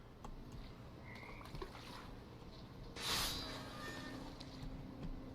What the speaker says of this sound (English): And toads.